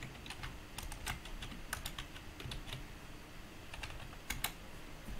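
Fast keystrokes on a computer keyboard as an address is entered in a web browser, light clicking bursts over a steady background hiss, fairly soft and with no one speaking.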